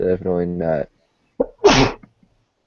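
One loud, abrupt sneeze close to the microphone during a hockey talk show, coming after a short spoken phrase and a brief pause.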